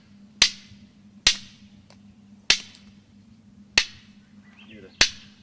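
Blows against an obsidian core during percussion flaking, five crisp, sharp cracks spaced roughly a second apart as flakes break away, heard up close over a constant low electrical hum.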